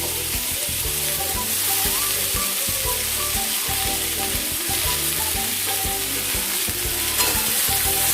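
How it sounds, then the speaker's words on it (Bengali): Potatoes and pointed gourd frying in a little fish oil, stirred in the pan: a steady, close sizzle runs throughout, with repeated scraping and tapping strokes of the spatula at a regular pace. "দিয়ে এটাকে আমরা সামান্য নাড়াচাড়া করে নেব"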